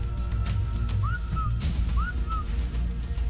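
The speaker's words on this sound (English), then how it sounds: "you can whistle attack this target" A two-note rising-then-falling whistle for the attack command in ARK: Survival Evolved sounds twice, clear and evenly spaced, over a low droning game background.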